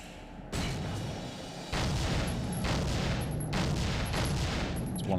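Dense, continuous gunfire in the shooter game Soldier of Fortune, loud and sustained, with overlapping shots that swell in intensity partway through and no break.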